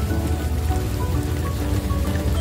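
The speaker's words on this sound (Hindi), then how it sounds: "बारिश हो रही है तो पानी जमा हो गया।" Rain falls steadily in a mangrove forest in Goa during the monsoon, a continuous close patter of drops on wet ground and puddles with no voices, holding an even level throughout.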